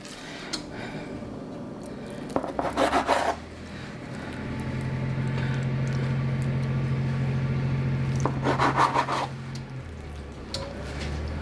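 A knife slices through rolled puff pastry pinwheels, with short rasping cuts in bursts near the start and again later, over a steady low hum and no talk.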